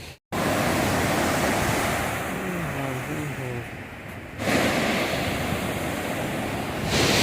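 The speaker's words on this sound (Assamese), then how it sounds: "আপোনালোকে চাওকচোন অকণমান সাগৰটো" Sea waves wash onto a beach in Kerala with a steady, broad roar that swells louder near the end, and a voice is briefly heard partway through.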